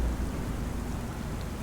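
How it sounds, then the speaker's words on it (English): Steady rain falling in Farming Simulator 25, a dense even hiss of drops with a low rumbling undertone, continuous and unbroken throughout. "So it's still raining."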